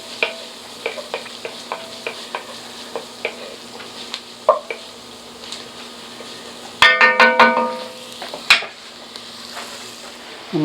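Garlic cloves cooking in a pot of chicken corn chowder give a faint, steady background sizzle with scattered soft taps and a brief clatter of stirring utensils partway through, with no voices.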